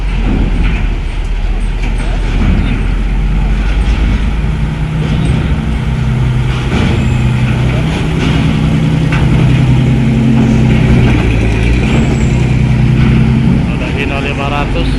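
A Hino 500 truck rumbles at Bakauheni harbour at night, a low steady engine drone with other heavy vehicles idling around it, continuous and close, with a voice talking over it.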